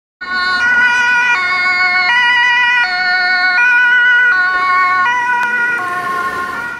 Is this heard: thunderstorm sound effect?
no